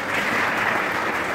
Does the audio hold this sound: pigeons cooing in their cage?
no